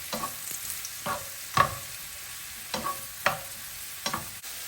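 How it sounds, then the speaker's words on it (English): Chopped mushrooms, about 450 grams, fry in a pan on high heat with a soft steady sizzle, punctuated by several sharp scraping stirs at irregular intervals. "I'm going to cook this on high heat, and then the mushrooms will start releasing all the moisture"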